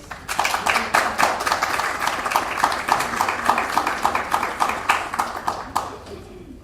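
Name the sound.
audience applause welcoming a speaker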